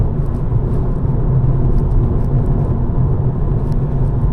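A car engine hums and rumbles steadily from inside the cabin as the driver eases onto the throttle through a corner, with continuous low drone and a few faint high clicks over the top.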